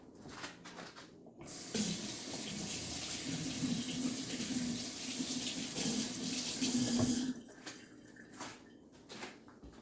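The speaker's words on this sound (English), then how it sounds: "I want to rinse my hands off." Water from a running kitchen tap splashes over hands being rinsed, a steady close rush for several seconds that stops abruptly, with faint kitchen handling noises before and after.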